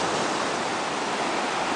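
Steady, broad rushing of ocean waves breaking on a beach, a continuous wash of surf noise with no distinct individual breaks and no voices.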